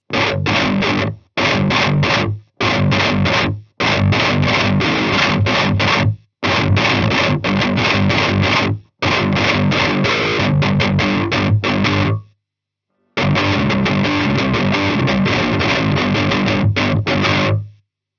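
Heavily distorted electric guitar through a Demonfx Precision Drive overdrive pedal and Harley Benton Mighty 15 amp, playing djent-style chugging chords in bursts separated by short gaps, loud, gritty and aggressive, with no voices.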